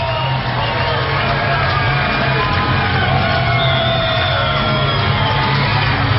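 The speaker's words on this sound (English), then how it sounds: "Crowd starts to make some noise as the Trash Pandas trying to give the Wahoos a finish." Baseball stadium crowd at a Pensacola Blue Wahoos vs. Rocket City Trash Pandas minor league game, a steady broad roar of cheering and yelling that holds at an even level throughout, with no commentary over it.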